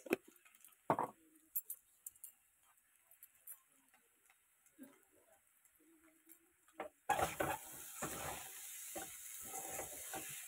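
Chowmein with egg and salt frying in a pan: after a quiet stretch with faint clinks and stirring, a loud, close, steady sizzle suddenly starts and carries on to the end.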